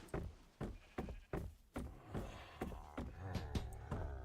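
A series of short, repeated video-game sheep bleats, about a dozen in irregular rhythm, some overlapping, with a faint background hum.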